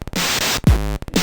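Harsh, heavily distorted electronic drum hits from a 909 drum machine iPad app, a booming kick with a falling pitch sweep between bursts of crushed noise, loud and close.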